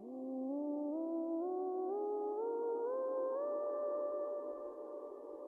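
A synth from the EtherSurface/EtherPad app plays a rising whole-tone scale in even, wider steps, each sustained note sliding into the next, steady and fairly quiet.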